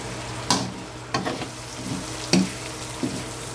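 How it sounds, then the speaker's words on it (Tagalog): Garlic and onion sizzle in hot oil in a pan with a steady frying hiss, broken by a few sharp clacks of a spatula stirring, close and alone. "lagay na po natin yung bawang. Isa-gisa lang po natin."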